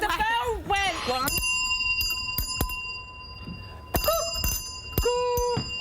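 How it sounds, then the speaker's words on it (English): A bell in the Celebrity Big Brother house rings in sharp repeated strikes with ringing tones, a short burst and then several more hits, with voices talking and exclaiming around them. "No, the bell went."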